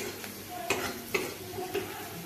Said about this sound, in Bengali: আর একটু আমি ভেজে নেব